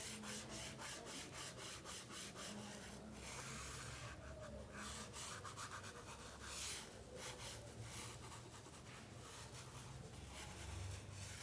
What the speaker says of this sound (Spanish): Paso el amarillo apenas rozando.